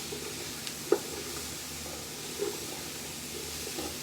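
Roux being stirred in a cooking pot, a faint soft sizzle with light scraping, plus a couple of small knocks from the spoon against the pot.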